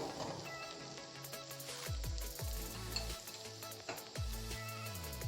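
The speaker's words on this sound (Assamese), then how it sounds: "এতিয়া মই এইটো সময়তে ইয়াত বইল কৰি থোৱা চাওমিনখিনি যোগ কৰি দিছোঁ।" Boiled chowmein noodles stir-fried with vegetables in a pan, steady close sizzling with scraping, clanking stir strokes of a utensil against the pan.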